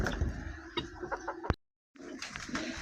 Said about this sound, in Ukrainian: Півень цей точно буде в холодець